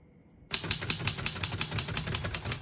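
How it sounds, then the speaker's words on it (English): Rapid, steady keystrokes clatter from a 1930 Royal P Model portable typewriter, starting abruptly after a brief quiet moment and continuing as a close, even run of sharp mechanical clicks. "As you can see, all the keys type nice and none of them skip or stick."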